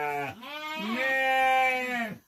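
Goat and her newborn twin kids bleating on a farm: two long, loud, wavering bleats close by, the second drawn out and strong, with no talk.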